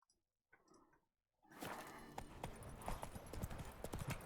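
Hooves of Roach, the horse in The Witcher 3, clip-clopping on the ground, starting after a brief quiet stretch and continuing as a steady, fairly close trot.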